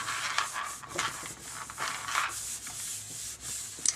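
A hand flattens and rubs a piece down onto a chipboard cover, making close, soft brushing and rubbing strokes in irregular bursts with a small tap near the end.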